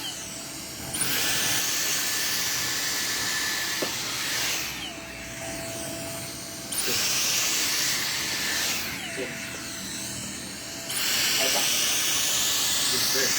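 A blower runs nearby with a loud, airy hiss and a thin whine, surging stronger and easing back in several long stretches.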